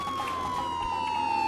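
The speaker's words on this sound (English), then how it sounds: "Let's turn on our siren for this one." Police siren in the Vehicle Simulator video game, a steady wailing tone held loud and continuous over low engine rumble, with no talk.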